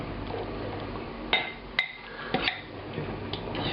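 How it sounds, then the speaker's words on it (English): Braised lamb korma is stirred in a metal pot, with several sharp clinks and scrapes of the spoon against the pot over a low background hum. "stir it around just a little bit, make sure everything's evenly coated"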